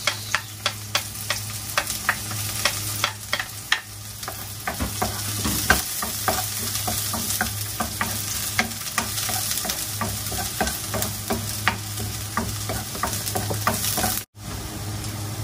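Garlic frying in a pan for sautéed cabbage, a steady close sizzle punctuated by regular scraping knocks of a ladle as it is stirred.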